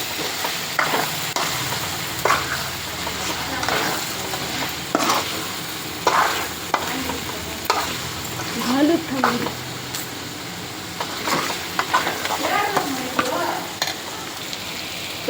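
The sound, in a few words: stirring chicken with chicken masala, frying in pan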